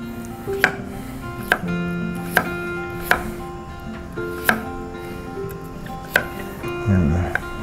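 Carrots being finely chopped with a knife on a board, sharp evenly spaced knocks about once a second, close and clear, with a voice talking quietly in between.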